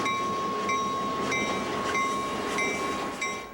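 A freight train of the Aberdeen and Rockfish Railroad, a short line hauling chemicals, lumber and grain, rumbles steadily nearby with a constant loud roar and thin metallic tones ringing over it, with no voices.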